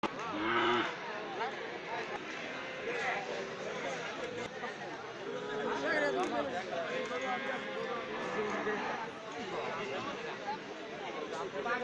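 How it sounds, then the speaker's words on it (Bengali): Calves and larger cattle of local and foreign breeds lowing at a crowded calf market in Rowmari, several long moos rising over steady crowd chatter and nearby talking voices. "এখানে অনেক বড় গরু আছে, দেশি বিদেশি অনেক জাতেরই গরু আছে"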